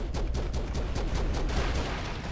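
Rapid gunfire rattles in the side-scrolling action game Broforce, with dense bursts of repeated shots that keep going steadily, loud and with no break.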